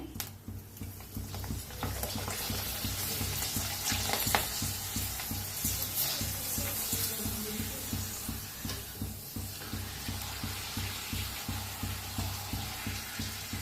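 Rice flour papad frying in hot oil, a steady loud sizzle with a rhythmic pulsing pattern throughout, close and continuous with no voices.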